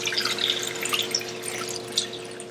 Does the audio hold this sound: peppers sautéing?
no